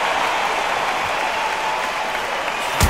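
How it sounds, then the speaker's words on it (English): Boxing arena crowd before a Kell Brook versus Amir Khan fight, a steady dense roar of cheering and buzzing voices held at a constant level throughout, with a slight swell at the very end. "The crowd here cannot wait. They've been buzzing all day long, and finally, we're about to get it on."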